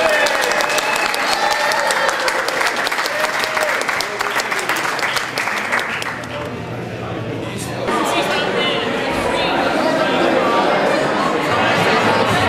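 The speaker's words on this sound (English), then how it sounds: "Please give him a hand" Audience at a reception party for Ivan Kral bursts into sustained, loud applause that fades into crowd chatter, then swells again briefly, with voices talking through it.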